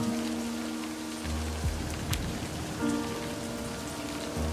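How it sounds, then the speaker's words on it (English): Steady rain falls and patters on surfaces in a cliffside scene by a wooden house on the shore in the video game Livber: Smoke and Mirrors, loud and continuous with a few brief drip-like knocks and no talking. "standing here in the rain"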